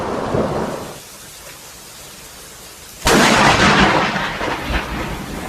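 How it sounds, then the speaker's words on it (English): Thunder from a nearby lightning strike during a storm: a low rumble fades, then a sudden loud crack bursts in and rolls on as a heavy, broad roar. "Lightning strike right in front of me."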